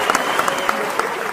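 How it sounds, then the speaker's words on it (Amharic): Brief burst of audience clapping for the actors at a comedy event, dense overlapping claps close by, with a voice briefly over it. "ተዋናዮች በጣም አሪፍ ስለ ተዋናዮች አጨብጭቡ።"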